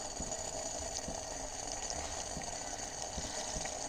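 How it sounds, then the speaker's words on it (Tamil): Water with ginger and hibiscus for tea bubbles and simmers quietly in a pot, a soft, continuous churning with small pops. "இப்போ நல்லா கொதிச்சிருச்சு"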